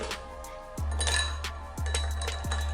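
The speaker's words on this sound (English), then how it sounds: "We're going to add in about 3 ice cubes." About three ice cubes drop one after another into a cocktail glass while an Old Fashioned is made, each landing as a sharp, near clink with a short ringing tail and clear pauses between them.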